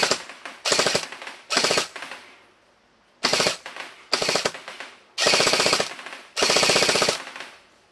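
SLR CQB M4 gel blaster from X-Force Tactical fires in several bursts of rapid full-auto shots, each a crisp mechanical rattle lasting about half a second to a second, separated by short pauses, close and loud with no talking.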